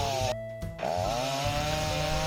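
A chainsaw cuts through an unsplittable firewood log, its engine droning loudly and continuously, briefly dipping in pitch as the chain bites into the wood.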